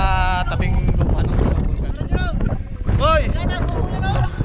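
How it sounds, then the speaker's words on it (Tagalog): Strong wind gusts roar across the microphone on land near Taal Volcano after its eruption, buffeting loudly and unevenly under people talking. "Malakas pong hangin, kaya kumubo yung mga tabing lupa."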